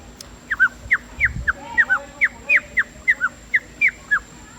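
A person imitates the call of a rufous snake wren in a jungle setting, producing about fifteen sharp, evenly spaced whistled notes in a steady rhythm, close and clear against a quiet background.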